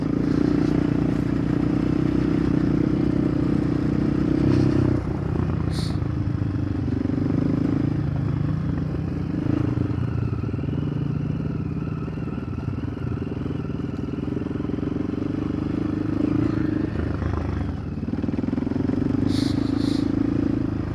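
Motorcycle with a 52-tooth rear sprocket riding along, a steady low engine drone with rattling and clatter running throughout, loudness fairly constant with slight swells as it pulls.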